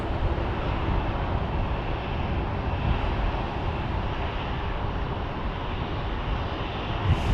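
An Airbus A330 from Paris taxis toward runway 12 right, its jet engines giving a steady, continuous roar at moderate distance with no voices over it.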